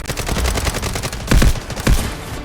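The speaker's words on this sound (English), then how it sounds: "Guided missiles launched." Guided missiles launch in the military shooter Delta Force Mobile as a loud, rapid series of booming blasts, with two heavier thumps standing out near the middle.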